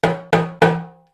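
Three sharp, higher-pitched West African talking drum hits with the drum squeezed under the arm, in even rhythm, loud and close, each ringing briefly before the next, the last one decaying out.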